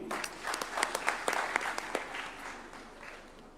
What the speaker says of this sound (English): A warm clap for him.